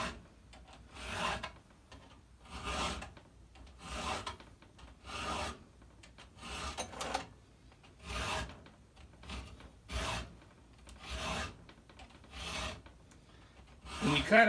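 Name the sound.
filing a chainsaw chain with a STIHL 2 in 1 filer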